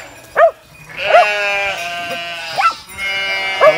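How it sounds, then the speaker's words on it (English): Several sheep bleat in short, wavering calls while being herded into a paddock by a dog, loud and close, with brief gaps between the bleats. "Okay, get the sheep in here."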